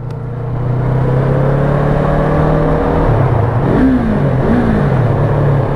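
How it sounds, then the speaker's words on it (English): Yamaha MT-03 300cc motorcycle engine at a steady, fairly quiet low chug, a continuous close hum whose pitch dips and rises slightly as the rider adjusts the throttle, with no talking. "And there's not a lot of noise to that engine. It is super quiet for a 300cc. But it's got that low chug to it."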